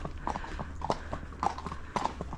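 Horse hooves clip-clop in a steady walking rhythm on a race day, four or five distinct strikes close by over low background murmur.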